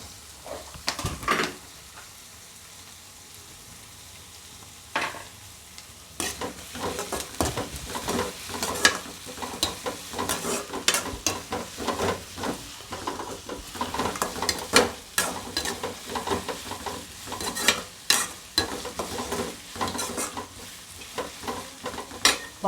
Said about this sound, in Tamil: வெங்காயம் இப்போ நல்லா வதங்கிட்டு இருக்கு.